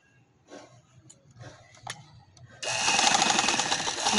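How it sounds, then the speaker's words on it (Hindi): A sewing machine stitches fabric for a full-sleeve garment, starting after faint handling noises with a steady close whirring hum that runs continuously to the end. "अब मैं इसको इसके बराबर सिलाई लगाते हुए ऐसे"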